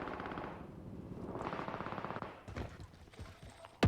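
Rapid automatic gunfire rattles in the video game Warzone, dense bursts of shots followed by a few sharper single cracks and a loud final report, all fairly distant-sounding.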